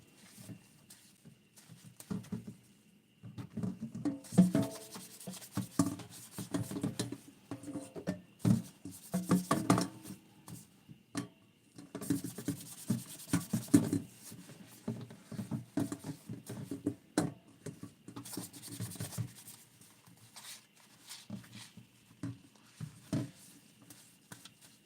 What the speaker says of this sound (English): I'm double scrubbing the vinyl.